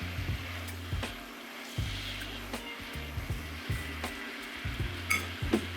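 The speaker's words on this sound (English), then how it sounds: "Now I'm gonna start mixing. You have to keep on stirring it." A utensil stirs a thickening honey garlic sauce in a pan, making repeated scraping and tapping strokes over a quiet background sizzle, moderately close with no talking.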